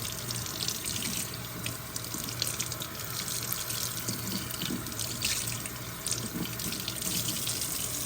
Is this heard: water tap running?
yes